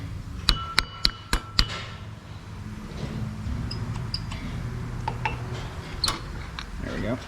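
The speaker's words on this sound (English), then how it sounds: "Now from here we can go ahead and remove our brake pads" Brake pads being removed from a Ford Fiesta front brake: four sharp metallic taps early on, then scraping and small clinks of parts, with a person talking in the background.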